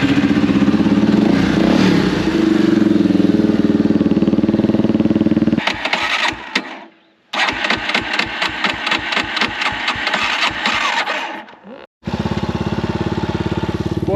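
A Yamaha quad bike engine is cranked and catches, then runs with a rapid, loud, rhythmic idle chug that briefly cuts out and restarts, close to the microphone.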